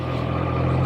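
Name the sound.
Triumph Trident 660 motorcycle engine revving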